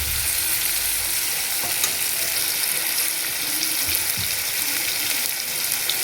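Chicken and potatoes frying in plenty of oil, a steady, dense, loud sizzle throughout with faint scraping and clinks of stirring.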